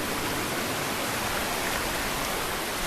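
Rushing water at Thenmalai waterfall, where the falls pour down into a stream below, heard as a steady, loud broadband roar that fills the whole moment without pause or voices.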